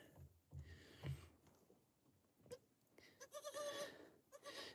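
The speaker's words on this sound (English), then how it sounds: "These guys are pygmy goat." Pygmy and other goats bleating on a homestead, several short calls at close to middle distance, with sniffs and shuffling between cries and a brief stretch of overlapping bleats near the end.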